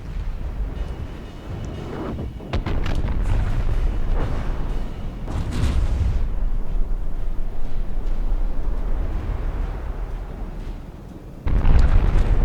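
Torpedoes striking a steampunk-style warship in a naval combat game, making a run of heavy, loud explosions and rumbling booms across several seconds, with a short lull and then another strong blast near the end.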